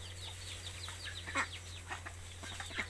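Chickens and ducks let loose in a patch of sawtooth coriander, scattered short clucks and chirpy calls from several birds, fairly close but quiet, over a steady low hum.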